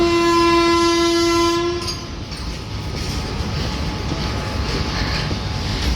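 A train horn blares loudly for nearly two seconds, then gives way to the steady rumble and rattle of a train at the station.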